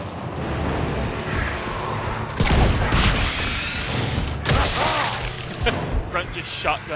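Shotgun blasts in the video game Mass Effect 3, two heavy booming shots a couple of seconds apart amid dense combat noise, close and loud over constant battle din.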